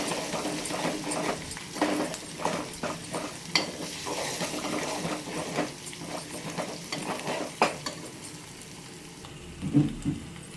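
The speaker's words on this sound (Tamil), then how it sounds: "வீட்டில் அரைச்ச மிளகாத்தூள் வேணுங்கிற அளவு போட்டுக்கலாம். பச்சை வாசம் போகிற அளவுக்கு மிக்ஸ் பண்ணிக்கலாம்." Homemade chili powder is stirred into an avaram flower pickle in a pan, with repeated scraping and clacking strokes over a soft, continuous sizzle at moderate, close range.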